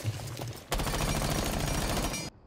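Sustained rapid automatic gunfire from a gun in Rainbow Six Siege, loud and continuous for over a second and a half after a brief quieter lead-in, then cutting off abruptly.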